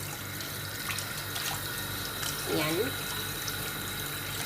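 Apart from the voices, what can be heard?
washing chicken under running tap water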